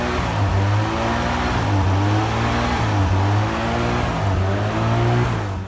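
Ford Probe GT engine with a surging idle, revs rising and falling in a steady repeating cycle roughly every second, close and loud with no talking.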